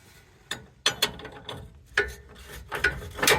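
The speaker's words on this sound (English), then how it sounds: "Put a wrench on it and see." Wrench working a seized cam bolt on a Toyota Tundra lower control arm, heard as several close, sharp metallic ratchet clicks and creaks in uneven bursts, with no voices.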